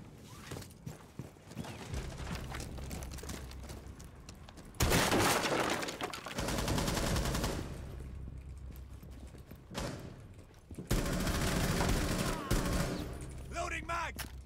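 Gunfire in the Call of Duty video game, with bursts of heavy shooting in loud stretches separated by quieter gameplay sounds, and a voice talking at times.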